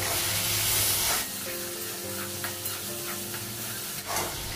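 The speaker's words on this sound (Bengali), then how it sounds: "আলু আর পেঁয়াজটা একসঙ্গে ভেজে নেব।" Potatoes and onions fry together in a pan, starting with a loud, hissing sizzle that settles into a quieter crackle broken by several scraping stirs.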